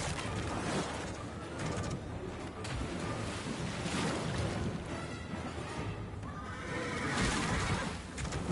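A horse neighs in the video game Lords of the Fallen, a rising whinny near the end over steady, dense battle noise.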